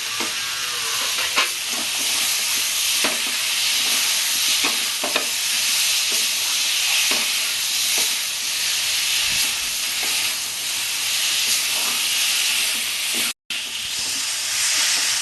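Onions and tomato sizzle and hiss in a hot pan for Bengali-style katla fish curry, with occasional stirring scrapes over the steady frying and a brief silent gap near the end.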